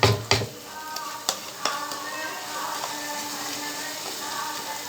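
Masala spices with cinnamon, cardamom, clove powder, salt and turmeric frying in oil in a pan for a gravy, a steady soft sizzle broken by a few sharp spoon scrapes and clacks as they are stirred.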